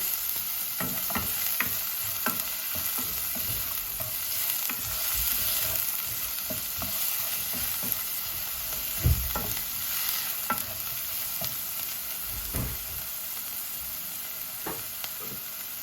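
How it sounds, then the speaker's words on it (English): Fresh chopped garlic frying in a pan, stirred with scattered clicks and scrapes over a soft, continuous sizzle, close and fairly quiet. "just give it a stir"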